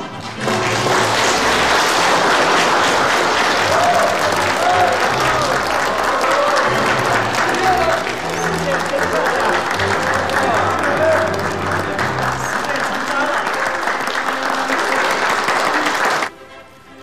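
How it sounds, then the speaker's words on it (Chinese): Wedding guests break into sustained, loud applause for the couple, a dense wash of clapping lasting about sixteen seconds before stopping abruptly, with crowd voices mixed in. "下面让我们响起最热烈的祝福的掌声"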